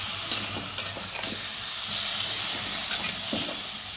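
Shepu (dill) vegetable with peanuts stirred in a pan, giving a steady soft hiss and sizzle with a few light scraping clicks of the spoon against the pan. No one speaks.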